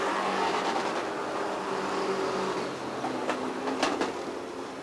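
Race cars, including a Chevrolet, roar around the Autodrome Granby track in a Prostock final, a distant engine drone rising and falling with brief sharper bursts near the end.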